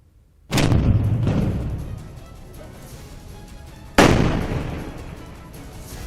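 A Sarang artillery gun fires two loud booming shots a few seconds apart, each a sudden heavy blast followed by a long rolling echo that slowly fades outdoors.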